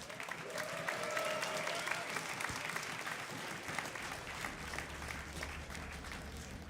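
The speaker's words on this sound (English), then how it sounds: "If you would like Fenix to take this game, cheer for Fenix!" Steady, dense applause from a large crowd at a DreamHack StarCraft tournament semifinal fills the space, a continuous wash of clapping with some cheering mixed in, loud and sustained throughout.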